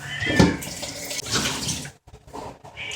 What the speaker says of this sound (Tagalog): Pwede na natin hugasan yung ating malagkit.